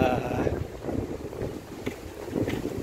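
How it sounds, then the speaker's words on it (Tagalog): Strong wind buffets the microphone in rough, low rumbling gusts at Dungon Esplanade by the mangroves in Mandurriao, Iloilo City, Philippines, with a boat-like drone and a faint voice underneath. "Lakas ng hangin."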